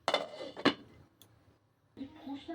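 A lid is set down on a pot of chicken soup in a home kitchen, giving two close metallic clanks in quick succession, followed by a fainter clatter of kitchenware.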